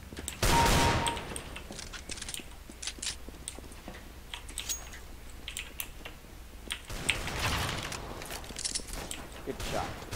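Gunfire in the video game CS:GO cracks out in bursts of rapid, sharp shots, some loud and close, others lighter and scattered, with voices talking intermittently over the action.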